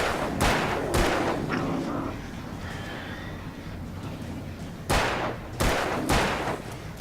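Gunshots in the video game Alan Wake: sharp cracks fired in pairs, two near the start and two more toward the end, with a quieter stretch of low rumble and game ambience between them.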